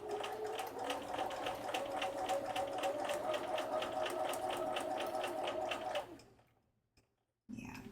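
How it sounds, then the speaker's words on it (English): Sewing machine running steadily for about six seconds at a quarter-inch seam, a dense rapid stitching rattle heard up close and alone, then it stops and a short bump follows after a pause. "I'm definitely not sewing accurately"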